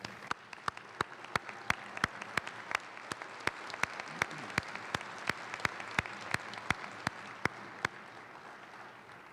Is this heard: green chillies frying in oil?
no